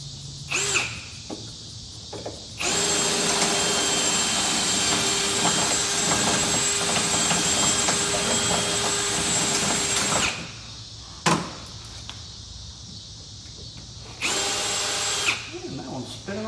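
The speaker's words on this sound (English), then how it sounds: "Quarter-inch drill bit's definitely the way to go." A power drill with a quarter-inch bit drills out a pop rivet while installing nerf bars on a Can-Am Maverick X3: a loud, steady whine for several seconds, then stopping, with short bursts before and after.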